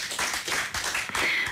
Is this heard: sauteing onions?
no